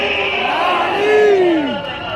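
A religious gathering's crowd shouts the Nara-e-Haidari slogan together, a brief loud chanted cry with voices rising and falling in pitch over about two seconds.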